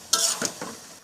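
Cow tripe with spices is stirred in a pan, two or three quick scraping strokes over a soft sizzle, close and brief.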